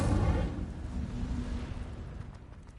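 The Incendio fire spell going off in Hogwarts Legacy, a deep booming whoosh at the start that rolls into a fading crackling rumble.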